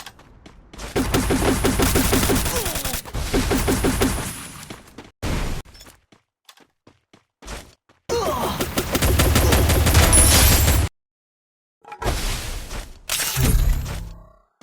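Video game gunfire in Free Fire: several loud bursts of rapid automatic shots with sharp impacts, separated by gaps of near silence and a few isolated single shots.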